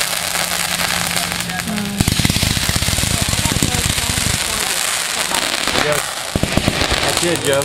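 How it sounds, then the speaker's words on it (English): Fireworks and firecrackers exploding at a 2012 backyard fireworks show, loud rapid crackling strings of bangs that run continuously and densely, with voices talking faintly underneath. "I can't hear it because I'm in the middle of a fireworks show."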